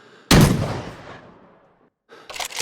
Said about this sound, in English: it's actually one of the fastest firing pump action shotguns